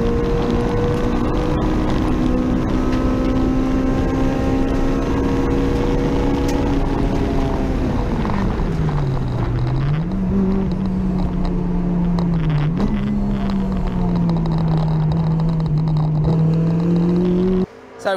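A Honda EP3 Civic race base car driving at speed gives a steady, loud engine drone with gentle pitch dips as it shifts and eases off, continuous road and wind roar underneath.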